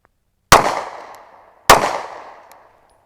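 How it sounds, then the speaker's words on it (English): Two loud, sharp pistol shots ring out at a shooting range, about a second apart, each with a long fading echo tail and silence between. "we're going to draw our pistol and put 2 rounds at 25 yards"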